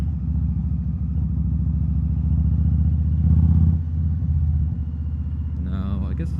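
Motorcycle engine rumbling steadily while being ridden, loud and close with constant low drone, a brief rise in revs mid-way, and wind buffeting toward the end.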